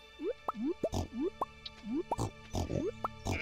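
Pigs oink in a barn in the Stardew Valley farming game, heard as a quick run of cartoonish rising blips mixed with soft plopping pops, close and fairly quiet.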